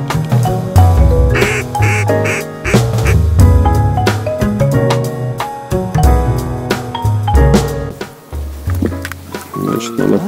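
Loud, repeated duck quacking close by at a lakeside duck hunt in Kazakhstan, coming in rapid runs of honking calls with brief pauses between them.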